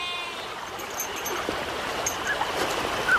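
A mountain river runs past a sawmill in a valley, a steady broadband rush of flowing water heard close and fairly loud throughout, with a few faint high chirps over it.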